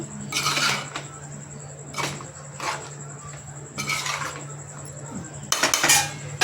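Food is stirred and mixed in a metal pot, with bursts of scraping and clanking from a spoon against the sides, spaced over several seconds above a steady low hum.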